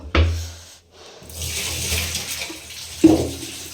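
Leftover water tipped out into a kitchen sink: a short splash, a pause, then a longer pouring gush running for about two seconds, ending with a brief clunk, close by.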